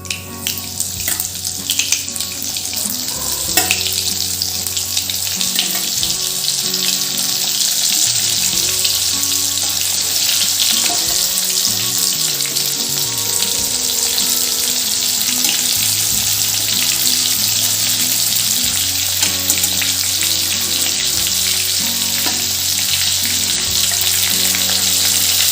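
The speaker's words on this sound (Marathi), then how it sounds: "आता तेलात मी भरलेले कारले ठेवून येते आहे" Stuffed bitter gourds with a masala filling and a pinch of hing fry in hot oil. A loud, dense sizzle stays nearby and unbroken the whole time, with a faint low hum underneath.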